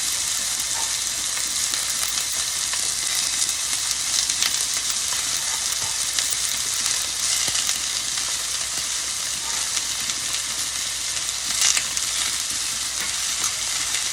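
Ribeye steak and onions searing in a pan, a loud, constant close sizzle and hiss that runs throughout with no talk.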